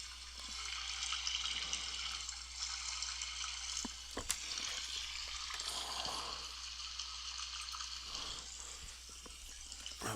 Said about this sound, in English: Water is super loud compared to other sounds in the game.